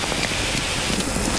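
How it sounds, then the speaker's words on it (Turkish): A heavy downpour pours steadily outdoors, a dense, loud, close hiss of rain spattering on surfaces with no break. "Bir yağmurun inmesini bekleyelim, gel."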